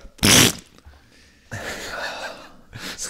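A voice imitates a fart with the mouth, a loud spluttering raspberry bursting out briefly near the start, followed by a longer, quieter raspy blowing noise during a German podcast jingle segment.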